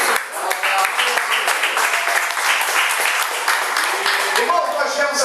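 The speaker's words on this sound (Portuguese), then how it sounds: "glorifique o Senhor por vossas palmas" Congregation at a church service applauding in praise, dense sustained clapping from many hands filling the room, with voices mingling underneath throughout.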